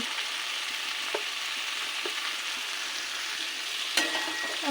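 Mung dal and bottle gourd ghonto being stirred in a pan after garam masala and ghee go in, a soft steady sizzle with a few light utensil scrapes and one sharper clink near the end, no talking.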